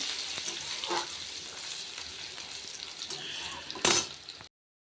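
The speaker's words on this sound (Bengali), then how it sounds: "এটা দিয়ে শাক ভাজবো" Leafy greens (saag) sizzle and fry in a pan with dried chilli and garlic, a steady close broadband hiss with brief louder bursts of spatter near the end, no voices.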